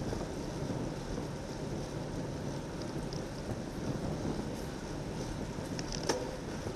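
Wind roaring steadily over the microphone during a cat 4/5 criterium bicycle race in strong crosswinds, a continuous low rumbling buffet throughout.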